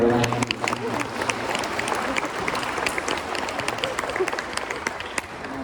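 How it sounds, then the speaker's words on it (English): An audience at a Canisius College event breaks into sustained applause, dense and even throughout, with a few brief voices mixed in. "applause as they relax"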